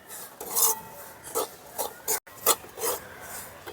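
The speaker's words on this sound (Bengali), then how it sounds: "ড্রাই ফ্রুটের সঙ্গে সুজিটাকে ভালো করে ভেজে নেব।" A spoon scrapes and stirs semolina with dry fruits frying in a pan, in rhythmic rasping strokes about every half second, close and moderately loud, with no one talking.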